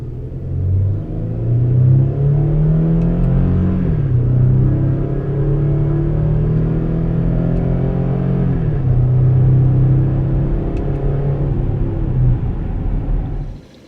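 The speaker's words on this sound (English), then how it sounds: "let's go ahead and get a medium acceleration shot of the vehicle when in manual mode." A 2015 Chevrolet Colorado Z71 pickup accelerating at moderate pace in manual mode, a loud close engine rumble climbing in pitch through gear changes and settling between shifts, with no talk.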